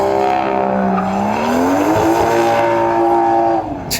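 A sports car engine roars loudly and continuously, its pitch rising and falling as it revs, with no voices over it.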